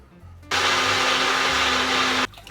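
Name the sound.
blender grinding roasted spices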